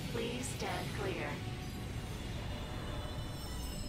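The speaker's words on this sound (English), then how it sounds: "The train is now arriving. Please stand clear." A train pulls into a station in the Ratchet & Clank video game, with a low rolling rumble throughout. A short voice sounds near the start, then the rumble continues on its own.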